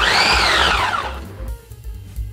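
An electric hand mixer whirs steadily through oatmeal cookie dough made with oats and brown sugar, its motor whine gliding down in pitch and then settling into a lower, bumpier churn as it works the thick mixture close up.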